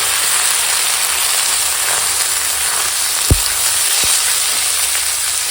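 Spices tempering in hot oil as cut pumpkin and brinjal go in, a steady close sizzling crackle throughout with a couple of sharp clacks near the end, no talking.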